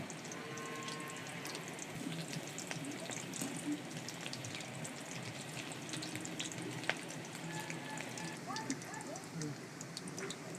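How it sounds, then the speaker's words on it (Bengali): Egg-battered chicken pakoras fry and foam in hot oil, giving a steady, fairly faint bubbling hiss with scattered pops and crackles, while speech is heard faintly underneath. "তেলে ফেনাটা হচ্ছে কারণ এটাতে আমি ডিম দিয়েছি"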